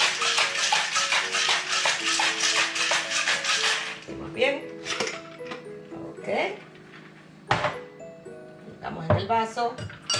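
A cocktail shaker is shaken for a Bloody Mary: a rapid, steady run of rattling, clinking ice for about four seconds, close and loud. Lighter clinks and taps follow while a person talks.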